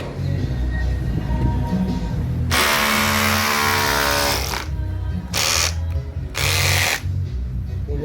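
A Dongcheng DCZC 13 cordless 12-volt SDS rotary hammer runs close by, first idling low, then a loud sustained burst of hammering, followed by two shorter bursts with pauses between.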